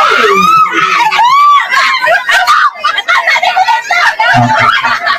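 Loud, close screaming and shrieking from a group of people during a party game at a child's first birthday celebration, with laughter and excited voices mixed in.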